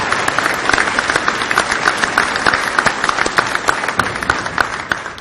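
Sustained audience applause at a college commencement and nursing pinning ceremony, dense steady clapping from a large crowd filling the hall at even loudness throughout, with no voices over it.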